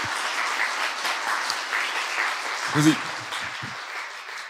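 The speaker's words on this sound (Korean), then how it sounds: "우리 특별히 우리 캐디 성도님들에게 큰 박수로 한번 응원합시다." A Korean church congregation claps warmly at a special dawn prayer service, a steady wash of applause that runs throughout, with a voice briefly speaking over it near the middle.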